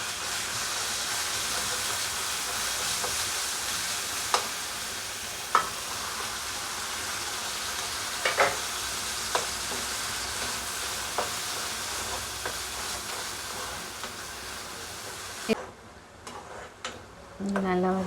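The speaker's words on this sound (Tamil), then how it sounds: "நல்லா வதக்கிட்டு இப்போ நம்ம அரைச்சி வச்சுருக்க வெங்காயம், தக்காளி அந்த பேஸ்ட் ஆட் பண்ணிவிடுங்க" Ground onion and tomato paste sizzle steadily in a pan for an egg curry, a continuous frying hiss with occasional clicks and stirring taps, and a voice talks now and then over the cooking.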